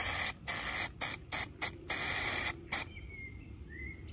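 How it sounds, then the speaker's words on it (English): Red spray paint from an aerosol can is sprayed onto a tire for a 1200cc V8 4x4 buggy build, in several sharp hissing bursts of varying length, close and clear with no talk, before fading to a quiet background. "So now we can continue spraying the tire red."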